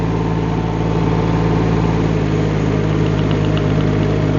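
A Rippa R18 mini excavator runs in high gear, its engine a steady, loud, even drone with a low rumbling hum throughout, close by and without talk.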